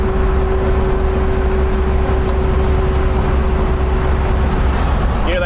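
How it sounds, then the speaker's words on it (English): A 1958 Volkswagen Transporter T2 split-windscreen van rolls over road bumps, heard from inside as a loud, constant low engine and road rumble with a steady tone running through it and a brief rattle near the end. "Here come the bumps that we go over every video."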